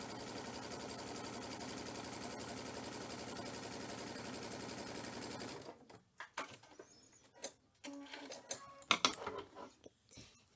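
A sewing machine with a hemmer foot stitches a folded seam, its steady dense mechanical whir running for several seconds, close and even, then stopping abruptly and giving way to scattered handling clicks and rustles.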